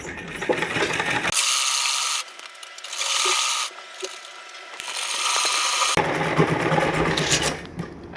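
A sewing machine stitches a gathered fabric seam on a co-ord set, with mechanical whirring bursts broken by brief pauses and restarts, close and fairly loud.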